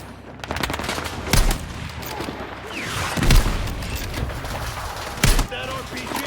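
RPG and gunfire in a Battlefield 6 campaign battle: loud rattling bursts and several heavy booming blasts go off close by, with voices talking over the din.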